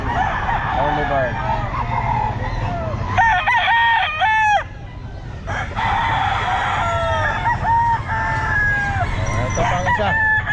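Roosters crowing repeatedly and chickens clucking amid a busy pet market, the calls overlapping at close range over a steady crowd murmur with faint voices in the background.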